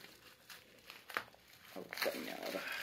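Thin cellophane packaging being crinkled and cut open with scissors while unboxing an online order, with soft rustling and a few sharper crinkles and snips, close by amid quiet speech.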